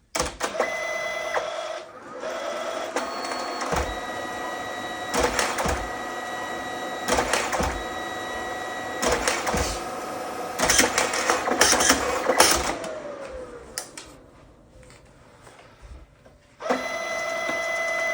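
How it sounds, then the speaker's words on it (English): A receipt printer whirs and chatters in repeated bursts with sharp buzzing feeds, pausing briefly between lines before a final longer run. "So this printout indicates that the printer is connected to the wireless device."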